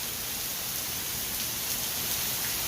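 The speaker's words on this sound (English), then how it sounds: "Listen to that rain. And it's just a nice steady drizzle." A steady drizzle of rain falls outdoors in Alaska, an even, close hiss of drops on surfaces with no breaks and no talk.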